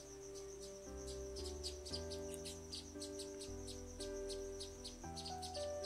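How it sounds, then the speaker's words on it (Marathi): Sparrows chirp while feeding outdoors, giving off steady, repeated high tweets over a dense bed of continuous tonal background sound. "चिमणी पक्षी चारा खात आहेत"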